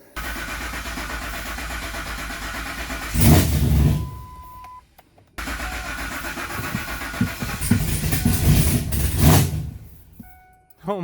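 A twin-turbo Ford F-150 engine cranks and fires twice, each attempt a loud burst of rough combustion that dies back down, with a brief pause between the two tries.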